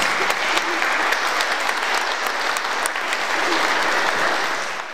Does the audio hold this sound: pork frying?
no